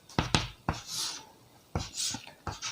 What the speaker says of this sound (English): Now I write here